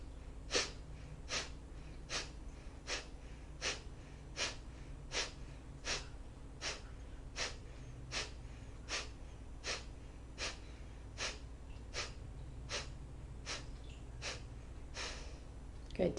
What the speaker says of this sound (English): And so that is Kapalabhati breathing.